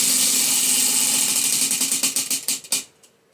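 A prize wheel spun to pick a book rattles with a dense, fast stream of clicks that gradually slows into separate ticks and stops after a final louder click. No voices are heard.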